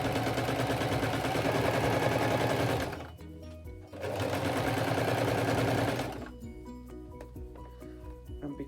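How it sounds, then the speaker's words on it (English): A sewing machine stitches a cushion cover in steady, loud whirring runs that stop briefly, start again, then give way to quiet handling. "Now carry on stitching to the end."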